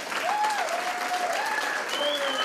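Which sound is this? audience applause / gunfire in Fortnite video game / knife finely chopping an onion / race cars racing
audience applause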